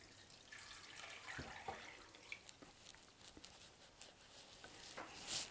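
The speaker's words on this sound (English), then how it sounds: "And now I'm going to add the rest of my stock in." Chicken stock pours into a casserole pan with a soft, faint liquid splash and patter, followed by scattered light clinks and drips near the end.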